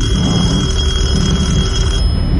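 A telephone rings steadily and loudly in the horror video game Detention, a continuous electronic ring with a droning background.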